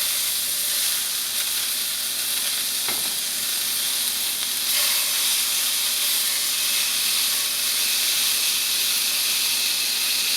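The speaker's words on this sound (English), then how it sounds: "what I like to do with filet mignons is actually start by cooking the bacon around it" Bacon-wrapped filet mignon searing in a hot pan gives a steady, loud sizzle and hiss that runs unbroken throughout, with a brief sharp tap partway through and no talking.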